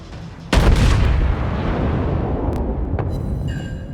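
A USS Texas main battery fires high-explosive shells in World of Warships: one sudden heavy boom that rolls into a long rumbling decay, then a couple of fainter sharp reports near the end.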